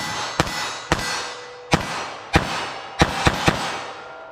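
Seven sharp pistol shots firing .380 ACP ammunition ring out close and loud, spaced unevenly over a few seconds, the last three coming in a quicker cluster, each with a brief crack and short decay.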